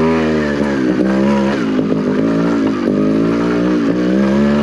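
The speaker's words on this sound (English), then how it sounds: "we're on our first two-stroke 300 trials bike" Two-stroke 300 trials bike engine running close up, a steady loud idle with a few quick throttle blips and revs throughout.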